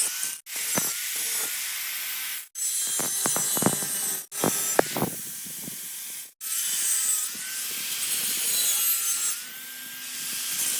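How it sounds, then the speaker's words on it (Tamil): Iron pipe being cut for a homemade BMX bike frame, a long steady hissing, grinding rasp broken by several brief pauses, with faint clanks in between and no speech. "இந்த 2 இரும்பு பைப்லையும் நம்ம கரெக்டாக அந்த இரும்பு பைப் உட்கார அளவுக்கு பார்த்தீங்கன்னா கிராஸாக கட் பண்ணி எடுத்துக்கலாம்."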